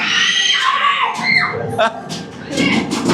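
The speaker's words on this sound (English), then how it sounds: "People screaming everywhere." Inside an attraction at the Walibi Belgium amusement park, people shriek and scream in overlapping, high-pitched bursts, loud and close, mixed with excited talking.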